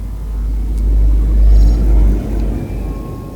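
A sluggish spaceship's engine in a trading game rumbles low and heavy as the throttle opens, swelling and easing in a steady roar close by, with no voices over it.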